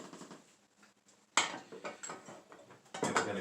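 A spoon stirs pizza dough with a little olive oil by hand in a bowl, a quiet start giving way to loud, irregular scraping and clacking strokes close by.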